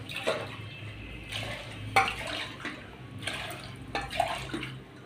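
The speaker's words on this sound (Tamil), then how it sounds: "அரிசியை போட்டதும் தேவையான அளவு தண்ணி ஆட் பண்ணிக்கலாம்." Water from a tap runs and splashes onto raw ration rice in a pot in a home kitchen, a faint irregular trickle with small drips and bursts of pouring.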